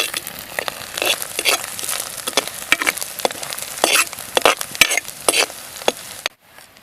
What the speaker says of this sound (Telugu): ఆయిల్లో ఒక రెండు నిమిషాలు ఎండు రొయ్యలు వేగనిద్దామండి